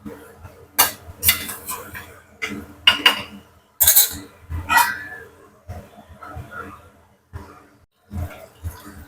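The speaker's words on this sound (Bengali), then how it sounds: "এবার আমি ঢাকা দিয়ে দিয়ে কষাবো।" Boiled mutton stir-fried in a covered pot for a Bengali mutton kosha, metal utensils clanking and scraping against the pot in uneven bursts, close and fairly loud.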